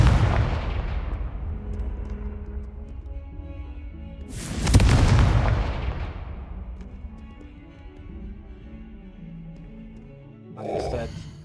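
Booming explosions from the Confringo blast spell in Hogwarts Legacy, two loud detonations with long rumbling decays a few seconds apart, followed by a short sharp burst near the end.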